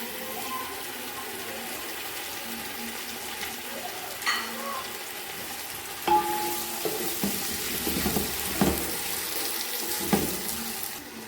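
Tomatoes and green chillies frying in a pot for beef yakhni pulao, a steady hiss and sizzle throughout with occasional stirring scrapes and clinks growing busier toward the end.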